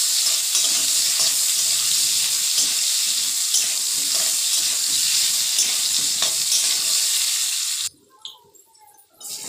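Long-cut eggplant slices fry in a pan with a loud, continuous, dense sizzle that cuts off abruptly near the end, leaving quieter scattered crackles.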